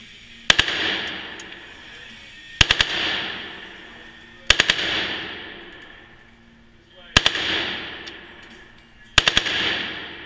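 At a gun range, five sharp, loud firearm shots ring out at a steady pace about two seconds apart. Each leaves a booming echo that fades before the next shot.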